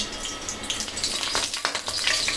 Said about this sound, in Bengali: 2 টুকরা দারচিনি, 4টা এলাচ, 4টা লবঙ্গ, এগুলি দিয়ে দিলাম